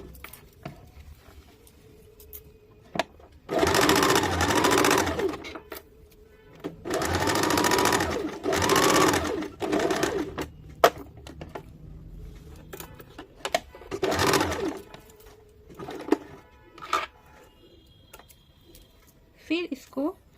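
Sewing machine stitching a pocket onto loose palazzo trousers, running in several separate bursts of a few seconds each, close and clear, with quiet handling sounds and pauses in between.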